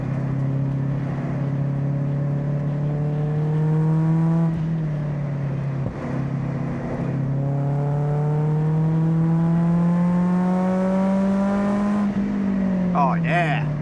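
Mazda NC Miata engine pulling hard on a race track, rising harmonic whine through each gear with brief shift dips around six and twelve seconds, loud and close, sustained throughout with no talk.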